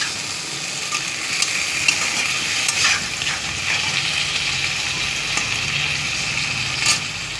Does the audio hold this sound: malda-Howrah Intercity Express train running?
no